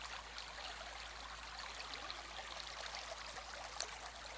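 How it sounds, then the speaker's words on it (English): A creek in autumn woodland flows with a soft, steady trickle and gurgle, quiet and unbroken, with no voices over it. "The sound of water is always calming."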